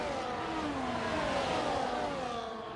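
A race car in a racing video game accelerates down the back straight on the Hungary circuit, its engine whine climbing steadily through the gears, loud and close without any talk.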